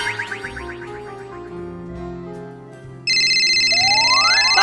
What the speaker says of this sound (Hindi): चलो फोन कर लेती हूँ रुखसाना को